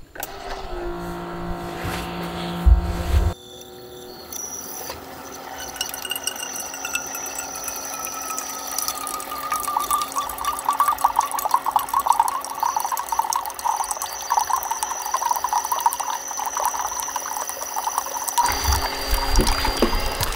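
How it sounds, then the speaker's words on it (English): A drip coffee maker brewing on power from an EcoFlow Delta 3 Plus AC inverter, a steady gurgling and hissing hum that builds and holds for most of the clip after a brief quieter start. "I'm going to go ahead and see if it will make coffee with its AC inverter"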